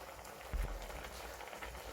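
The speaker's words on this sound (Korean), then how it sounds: "맛있는 돼지고기 김치찌개가 보글보글 끓고 있어요" Pork kimchi stew boiling in a pot, a faint, dense bubbling and popping crackle heard close and alone.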